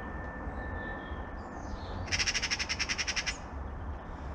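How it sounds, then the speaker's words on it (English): A magpie in a vegetable garden lets out a short burst of about a dozen rapid, harsh squawks close by, over a low steady rumble that may be a plane overhead. "I've got a bloody magpie"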